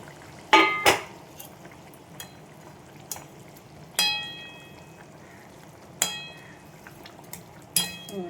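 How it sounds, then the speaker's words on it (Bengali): Phuli fish slipped into a simmering curry in a pot: a few sharp clinks of utensil against the pan over a low, soft bubbling, close and fairly quiet, with no talking. "দেখো ঝোলটা ফুটে উঠেছে, মাছগুলো আমি দিয়ে দিলাম"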